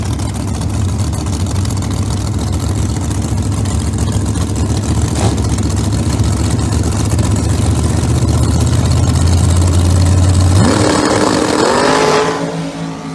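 Top Sportsman drag racing cars sit at the starting line at Maryland International Raceway with engines roaring loudly and steadily. Near the end the engines sharply rev up and pull away, and the roar fades out.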